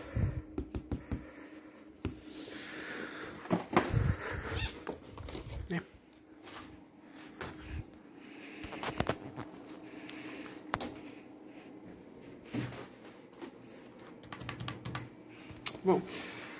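Typing on a gaming computer keyboard, rapid irregular clicks in bursts with pauses, fairly close, with some background rustling.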